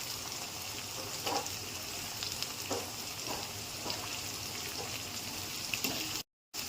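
Capsicum and cabbage fry in a pan with a continuous soft sizzle, broken by occasional light stirring clicks, close but fairly quiet, with a brief dropout near the end.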